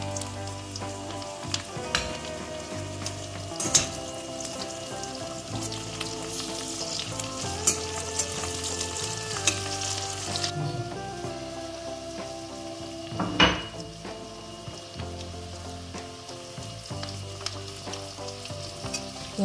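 Pork sautés with onion, ginger and garlic for binagoongan, a steady close sizzle broken by occasional utensil knocks against the pan, with music playing underneath.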